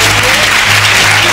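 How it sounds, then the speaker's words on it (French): A theatre audience at a French public-speaking contest final breaks into loud, dense applause, a continuous wash of many hands clapping close and full, without pause for the whole moment. "je vous propose un tonnerre d'applaudissements pour cette technique de drague plutôt douteuse"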